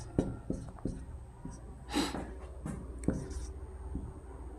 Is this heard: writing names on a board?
yes